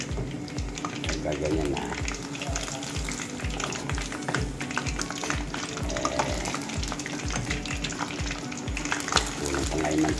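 Pork leg (pata) deep-frying in about a litre of hot oil for crispy pata, with a loud, steady crackling sizzle and continuous spattering pops throughout, while a voice speaks briefly over it.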